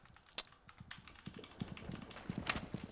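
Faint clicking of computer keyboard keys during Rainbow Six Siege play, a loose irregular patter of soft taps with one sharper click near the start.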